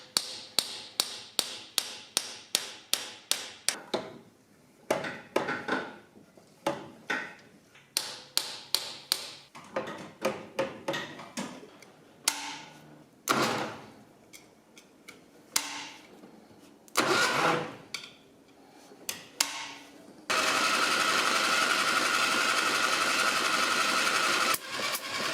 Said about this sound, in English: just rock the engine so the piston taps it nice and light